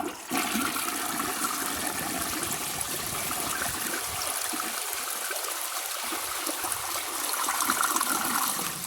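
A 1994 Peerless Madison toilet, set up outdoors, flushes with a loud rushing gush of water that pours continuously, then swirls and drains, nearby and alone.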